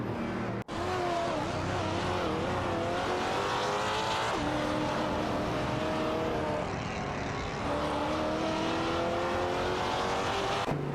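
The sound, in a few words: race cars, Mercedes and Ferrari 575 Maranello, in racing video game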